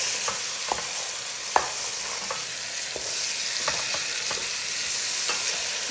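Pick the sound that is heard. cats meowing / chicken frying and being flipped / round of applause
chicken frying and being flipped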